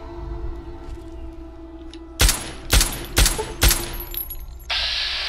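Four sharp, loud gunshots in the video game Fallout: A Tale of Two Wastelands, firing in a fairly steady rhythm over a low background rumble, followed by a sustained hiss.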